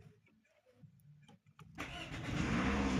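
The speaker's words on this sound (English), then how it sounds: "As you can hear, the engine is running" A Toyota RAV4 engine cranks briefly, then catches and starts, rising from quiet clicks into a loud, steady running roar up close.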